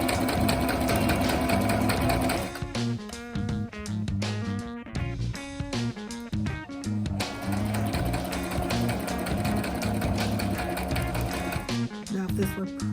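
A sewing machine stitches the seam of a faux wrap dress, its motor running in a loud steady whir with a short pause partway through, then resuming for a long continuous run.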